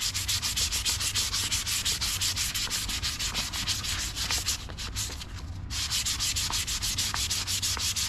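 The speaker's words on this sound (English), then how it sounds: "I really prefer using a sanding block" Steady, continuous abrasive rubbing of sandpaper on a Les Paul Custom kit guitar's wooden body, close and loud, with a brief dip in the middle before the sanding resumes.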